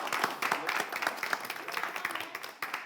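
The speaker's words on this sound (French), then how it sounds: "on peut les applaudir, s'il vous plaît" A studio audience claps in dense, irregular applause, close and lively, filling the whole moment before tapering slightly at the end.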